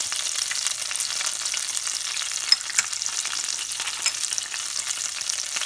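Cumin seeds sizzling in melted butter in a pan for sabudana khichdi, a soft steady crackle with a few sharper pops, close and alone without talk.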